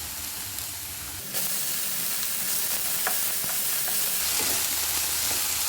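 Tomatoes drop into a pan of onion, ginger and garlic paste for a raw jackfruit dry fry, and a loud sizzle jumps up and holds steady and close, broken by a few light stirring scrapes.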